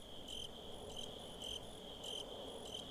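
Crickets chirp in steady repeating bursts over a constant high insect drone and soft wind-like ambience in the Resident Evil 4 game, a continuous night soundscape with no voices.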